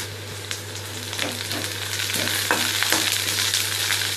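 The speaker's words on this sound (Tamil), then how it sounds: "பூண்டு ஆட் பண்ணிவிட்டு நல்லா ஃப்ரை பண்ணிக்கலாம்." Garlic sizzling and frying in a pan with already softened onions while being prepared for a garlic chutney, a steady bright crackle with occasional stirring scrapes, close and fairly loud throughout.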